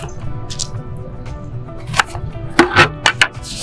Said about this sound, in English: Now I'm gonna go ahead and chop these in half.